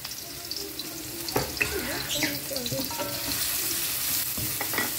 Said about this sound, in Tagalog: Bawang at saka sibuyas, ginigisa natin.